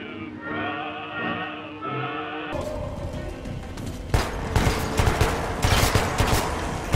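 Gunfire in the video game Metro 2033 Redux breaks out as rapid, loud, close bursts of shots over a steady background rumble, following a stretch of tonal ambient game sound.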